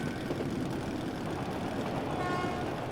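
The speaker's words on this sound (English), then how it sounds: "That's the train." Train rumbling past in a dark metro tunnel in the video game Metro: Last Light, a dense continuous roar of wheels and engine noise with faint metallic screeching, steady and close throughout.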